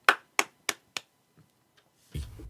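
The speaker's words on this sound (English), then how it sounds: "Oh, that deserves a round of applause." Four sharp, evenly spaced hand claps ring out alone, then a couple of faint taps and a short muffled burst of noise at the end.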